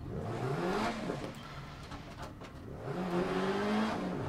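A Peugeot 205 T16 Evo 2 rally car in DiRT Rally revs hard in low gear, its engine note rising and falling twice, loud and close, with a moment of tire scrub and no talk.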